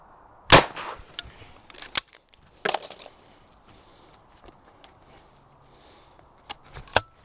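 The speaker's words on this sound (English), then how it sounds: "Wherever you seem to look, the gun seems to shoot." .410 shotgun shots on a clay range, a few sharp, spaced reports with quiet gaps between them.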